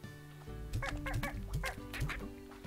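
Chickens in the video game Slime Rancher give a run of short, clipped clucks, about five or six close, moderately loud calls in an uneven rhythm over a low game background.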